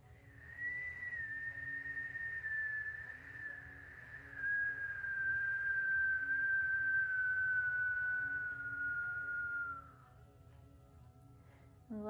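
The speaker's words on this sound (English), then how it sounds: "it's okay if you can't whistle. Just make the movement with your mouth" A single long, soft breath whistle during a yoga session, on one gently falling tone, held for about ten seconds over a low hum.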